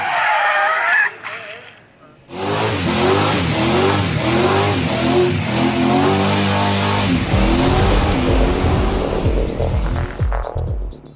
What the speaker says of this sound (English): Well, the burnout in the racing scene is to get the tyres hot.